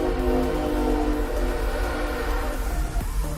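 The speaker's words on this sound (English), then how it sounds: "as you can hear, the train is moving on by" A heavy, steady rumble with low droning tones, like a train rolling past nearby, loud and continuous throughout.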